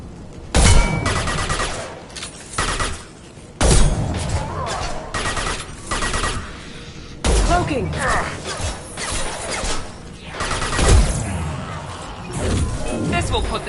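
Gunfire in the video game Mass Effect 2, loud bursts of shots and impacts arriving in several clusters, close and punchy, with voices speaking between them.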